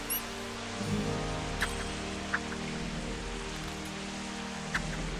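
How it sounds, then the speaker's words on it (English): Steady rain hisses and patters in Octodad: Dadliest Catch, an even wash of drops with a few louder isolated drips scattered through. "It's raining now!"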